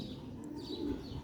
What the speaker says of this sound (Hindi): ये कसूरी गोल्डन कबूतर है